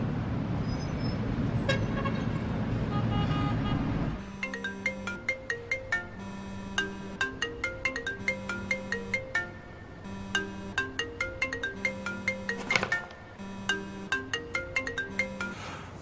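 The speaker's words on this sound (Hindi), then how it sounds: "तुम फोन क्यों नहीं उठाते?" A phone ringtone plays a repeating melodic pattern of tones that goes unanswered, following a few seconds of rumbling road traffic, loud and close.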